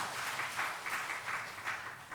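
A church congregation applauds to welcome a returning member, steady moderate clapping spread through the room, fairly quiet and continuous with no speech over it.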